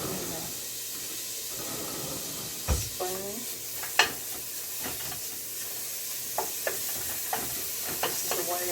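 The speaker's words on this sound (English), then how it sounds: "first thing we're going to do is get this bacon in here" Bacon sizzling in a pan while green beans are cooked, a constant hissing fry under sharp clanks and scrapes of utensils, with a voice speaking briefly partway through.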